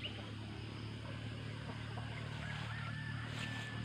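Chickens at a rural house in Bais City give faint clucks and calls over a steady low background hum, distant and quiet.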